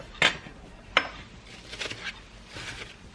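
A kitchen knife clicks twice against the work surface while cutting homemade pasta dough, two sharp close taps followed by softer scraping and shuffling sounds; no voices.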